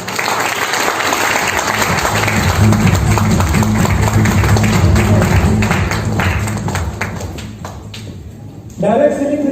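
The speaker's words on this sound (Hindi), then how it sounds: "मैं उनके लिए भी एक बार जबरदस्त ताली चाहता हूँ।" Audience at a motivational direct selling business seminar bursts into loud, sustained applause that holds for about eight seconds, then thins out before a voice cuts in near the end.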